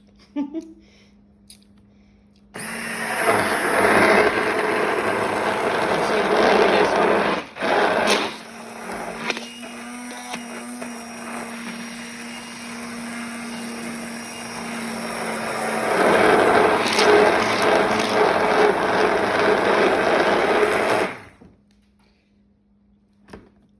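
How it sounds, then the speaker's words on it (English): An immersion blender whirs steadily through homemade mayonnaise for about eighteen seconds, loud and close, its pitch shifting as it churns the emulsion, then cuts off abruptly. "I'm gonna zing it with my emulsion blender."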